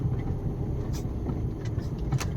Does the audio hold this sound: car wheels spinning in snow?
yes